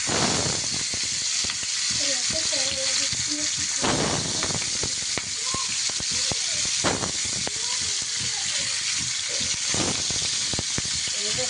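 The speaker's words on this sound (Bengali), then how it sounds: "সরিষার তেল, নুন হলুদ মাখা মাছটা কড়াইতে দিয়ে দিলাম" Turmeric- and salt-rubbed fish frying in hot mustard oil in a wok, a steady loud hiss and crackle throughout with faint clinks, alone.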